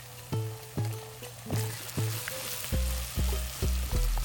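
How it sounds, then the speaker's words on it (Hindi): Onions and ginger garlic paste fry in ghee with whole spices, hissing steadily under a regular rhythm of stirring knocks against the pan. "अदरक लहसुन का पेस्ट और अच्छे से भून लेंगे।"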